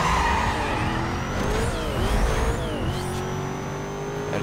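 Engine roar of a car in the racing game Need for Speed Most Wanted, loud and continuous with rising and falling revs as gears shift, along with faint tire noise.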